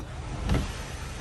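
Brief motor whir from the electric sunroof of a 2014 Audi A4 2.0T as it opens, swelling briefly over a steady background hum.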